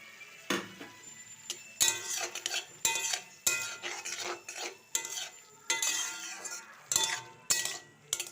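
A spoon scrapes and clinks against a pot while mixing chicken with sugar, black pepper powder and garam masala for a chicken curry, giving repeated close rhythmic scraping strokes with a faint sizzle beneath, no talk.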